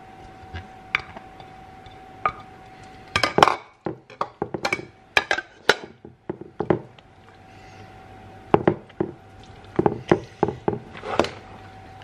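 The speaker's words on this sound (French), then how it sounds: "Je mélange un peu quand même" Sharp, irregular clinks and knocks of a utensil against a pan as mushrooms and ham are stirred, close and dry, arriving in scattered clusters over a steady low hum.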